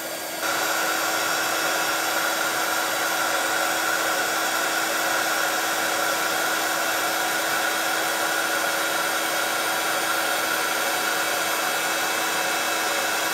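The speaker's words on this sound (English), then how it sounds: "get my heat gun going" A heat gun blows steadily during a black ice craft technique, a constant airy whirring hum that starts abruptly and holds level throughout.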